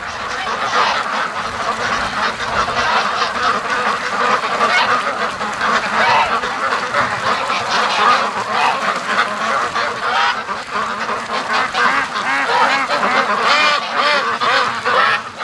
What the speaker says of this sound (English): That's a serious whack of ducks going down.